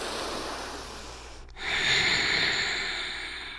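Breathing held in a seated yoga twist, steady airy breath that cuts out briefly, then a stronger, louder exhale through the nose follows and trails off under a hissy background.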